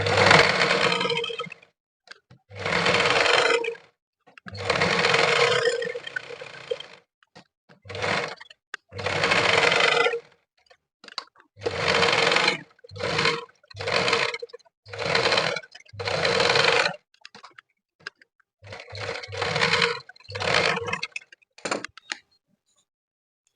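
A sewing machine stitches around the front of a blouse in a long series of short whirring runs, each lasting a second or two and broken by brief pauses, close and steady with no talking.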